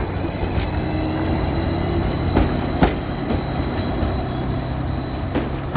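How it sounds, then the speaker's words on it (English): A train departing Halesworth station for Ipswich rumbles steadily nearby with a constant mechanical drone, a few sharp clanks and squeaks standing out as it moves off. "here goes the train to Ipswich."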